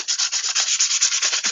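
Hand sanding of ukulele wood, a rhythmic rasping scrape in quick back-and-forth strokes, about a dozen strokes close up, steady and fairly loud with no voices.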